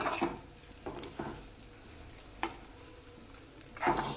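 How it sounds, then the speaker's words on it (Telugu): Crispy sweet corn kernels frying in hot oil, with a steady low sizzle broken by several sharp crackles and a louder burst of spattering near the end; no talking. "చూడండి మన క్రిస్పీ కార్న్ బాగా వేగుతుంది"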